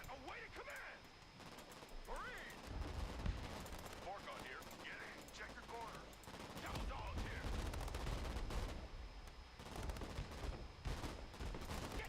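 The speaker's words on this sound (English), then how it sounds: "that grenade launcher is actually engaging now" Gunfire and explosive launcher rounds crack and thump repeatedly in the real-time strategy game Broken Arrow, a dense battle mix of bursts and booms with a voice talking over it throughout.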